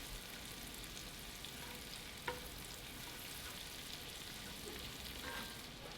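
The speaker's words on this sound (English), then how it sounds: "I'll melt my butter in here." Butter melts in a pan for gravy, giving off a steady close sizzle and crackle with one brief clink partway through and no voices.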